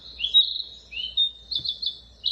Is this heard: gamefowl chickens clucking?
no